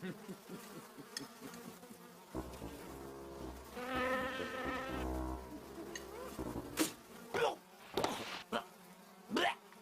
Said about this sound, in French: Cette soupe est remplie de mouches!